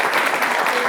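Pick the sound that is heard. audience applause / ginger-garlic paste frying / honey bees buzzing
audience applause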